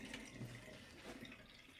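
Water draining off raw lamb for biryani, a steady close pouring and splashing wash that runs alone for a couple of seconds.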